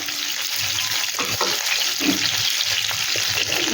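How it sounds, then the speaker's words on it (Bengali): Pointed gourd (potol) pieces fry steadily in hot oil, giving a continuous dense sizzle with faint stirring scrapes throughout, no voices. "পটলটাকে ভালো করে ভাজবে, যেন পরে পটল থেকে জল না বেরোয়"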